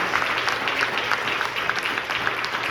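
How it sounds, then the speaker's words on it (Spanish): Congregation applauding during a church sermon on obedience, a brief burst of continuous crowd clapping at moderate level, filling the moment without speech. "Denle ese aplauso al Señor en esta tarde."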